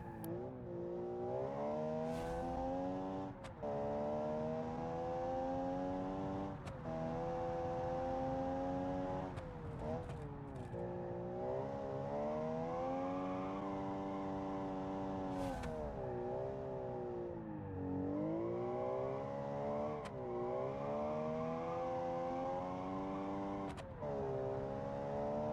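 Race car engine from a racing video game, loud and continuous, holding steady revs with rising and falling pitch through gear shifts and brief lifts, close and alone with no talk.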